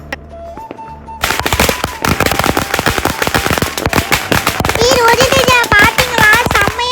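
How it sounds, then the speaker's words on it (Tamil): A string of saravedi firecrackers bursts for Diwali in a rapid, loud, crackling chain of sharp pops that starts suddenly after a quiet moment and keeps going to the end, with voices briefly rising over the last bangs. "செம்ம சவுண்ட் வருதுப்பா சரவெடியில இருந்து."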